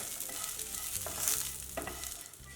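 Onion and curry leaves frying in a pan for hotel-style onion sambar, a steady soft sizzle with a few brief stirring scrapes, close and fairly quiet, no talking.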